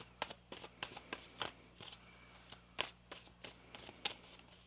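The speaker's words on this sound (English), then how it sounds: "One more shuffle here." A tarot card deck being shuffled gives quick, crisp riffling bursts and soft slaps in an irregular rhythm, close and clear with no talking.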